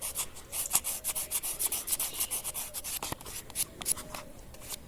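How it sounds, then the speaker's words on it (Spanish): A dyed pink alabaster necklace is sanded by hand with 1000-grit sandpaper, giving quick, rhythmic rubbing strokes that repeat evenly, close and fairly soft, with no talking. "Ya estamos acabando con la lija del 1000."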